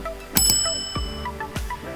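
A notification bell sound effect rings out loud and bright near the start, a bicycle-bell-like ding with a long shimmering ring, followed by softer whooshing swells.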